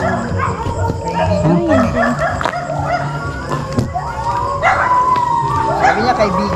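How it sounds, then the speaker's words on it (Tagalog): Dogs bark and yip in short bursts close by, mixed with whimpers and a howl-like whine, while people talk over the noise. "Tingnan mo aso."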